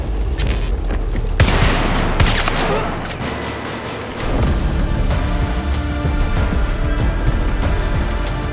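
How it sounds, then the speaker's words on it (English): Dense battlefield gunfire from the video game Battlefield, with sustained volleys of shots and heavy booms rolling continuously at loud, close range, briefly thinning before resuming. "They're shooting at us!"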